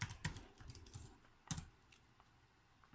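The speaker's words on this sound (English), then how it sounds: "I'm going to use the keyboard here, and I'm just going to type pointer." Short bursts of clicky keypresses on the keyboard of a FANUC robot teach pendant, several quick taps, then a lone sharp press and a few softer clicks, close up with no voices.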